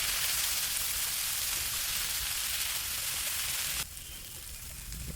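Sliced onions hitting a hot pan with spiced chicken, a loud, steady, bright sizzle lasting several seconds that drops to a softer fizz near the end.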